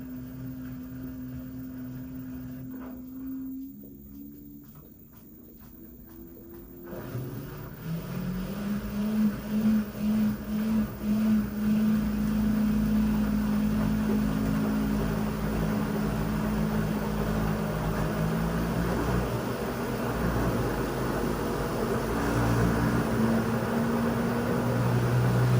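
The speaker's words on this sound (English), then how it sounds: "The drain pump is just so exaggerated with the noise, like my goodness." An LG WM4000HWA front load washer's drain pump runs during a bedding cycle, a loud steady droning hum with wavering tone that rises and fills the room after a quieter start, no voices.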